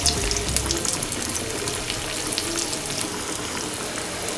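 A blooming onion fries in hot oil in a pan, giving a loud, dense, continuous sizzle and crackle with no voices.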